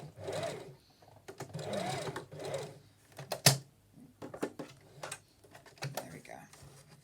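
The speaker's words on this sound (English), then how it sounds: "just make sure we do it nice and slowly. And stick to a little sewing line." A sewing machine stitches doll fabric in short, slow bursts of rapid mechanical chatter separated by pauses, close and clear, with a person talking quietly between the runs.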